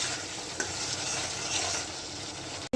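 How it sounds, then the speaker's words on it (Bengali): Egg curry sizzles in a pan as broth is poured in, a close, busy hiss and crackle with stirring scrapes that cuts off abruptly just before the end. "এখন ঝোলটা দিয়ে দেবো, দিয়ে দিলাম।"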